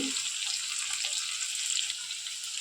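Chopped green chili, garlic and ginger frying in a pan for begun bharta, a dense, even hiss of sizzling oil held steadily at close range with faint stirring underneath.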